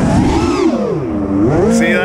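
An FPV racing drone's motors whine and rise in pitch as throttle climbs, sweeping up and down with a few surges, loud and close throughout.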